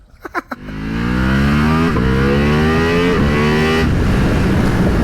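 A Ducati Multistrada V4 RS motorcycle engine gives a few sharp blips, then pulls into a loud, sustained acceleration. Its pitch climbs steadily and resets briefly at each gear change, close up and with no voices.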